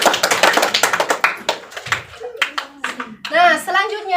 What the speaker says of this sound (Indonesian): Kita beri tepuk tangan untuk Mbak Nanda.